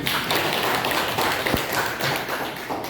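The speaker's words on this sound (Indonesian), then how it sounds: "Kasih applause, tepuk tangan." Classroom applause after a biology lesson tasting session, a dense patter of many hands clapping steadily for about three seconds, with a single sharper thump partway through.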